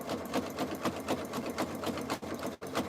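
A Quilt Ambition 635 sewing machine stitches a jelly roll rug in rapid, even bursts of needle chatter, close and steady, with a brief pause near the end.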